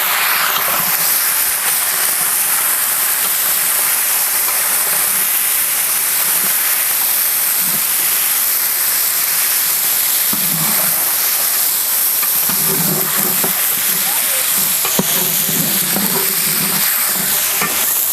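Mutton frying in hot oil over a village wood-fired clay stove, cooked in a large batch for a feast, with a loud continuous sizzle and hiss and occasional stirring scrapes, no speech.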